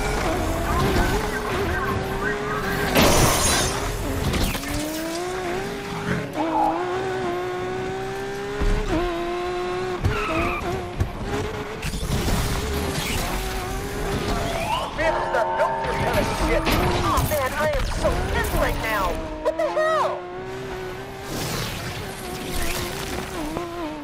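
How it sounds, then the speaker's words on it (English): Car chase in a police pursuit video game: revving engines, rising tyre squeals and skids, and bursts of impact noise, loud and continuous, with radio dispatch voices talking over the action. "Undercover is now pursuing the suspect's vehicle."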